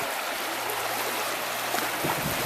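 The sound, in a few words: river water rushing over shoals on the Broad River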